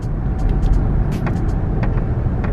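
Supercharged Audi tow rig engine on a downshift, a loud close low rumble that holds steady throughout, with faint higher whining and brief clicks over it.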